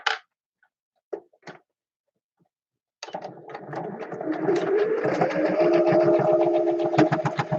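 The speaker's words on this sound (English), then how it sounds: "Is the sewing machine too loud?" A sewing machine runs steadily with a whirring mechanical hum, starting after a few brief clicks and quiet pauses, close and fairly loud.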